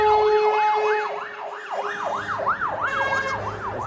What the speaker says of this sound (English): There's a fire engine going past.